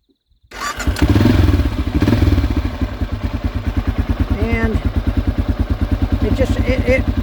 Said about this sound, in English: I'll let you hear this Remus exhaust.